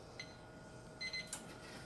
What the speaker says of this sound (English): Okay, so that's our timer